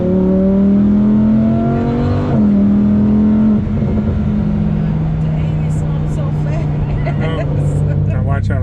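A Lamborghini in sport mode drives along with a loud, steady engine drone whose pitch rises and shifts between gears, heard from inside the cabin with people talking over it throughout.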